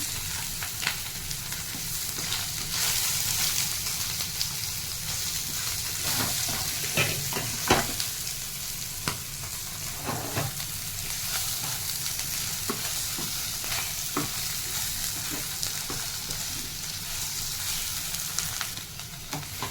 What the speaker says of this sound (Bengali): পনিরটা আমি লাল লাল করে এইভাবে ফ্রাই করে নিলাম।